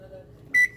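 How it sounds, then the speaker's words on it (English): An oven timer in a home kitchen sounds a single sharp electronic beep, loud and close, following a quiet stretch of low room noise. "the oven will start screaming again"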